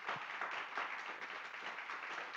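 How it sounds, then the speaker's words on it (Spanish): A church congregation applauds at an anniversary service, a faint, steady patter of many hands clapping at a distance, with no voices over it. "Den un aplauso al Señor"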